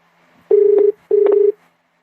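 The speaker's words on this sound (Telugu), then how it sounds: "ఫోన్ చేసి మాట్లాడదాం" Two steady push-button phone tones, each about 0.4 seconds long, sound with a short pause between them as a call is dialed to a goldsmith in Bijinepalli, Nagarkurnool district, Telangana. They are loud and clear, with no talking over them.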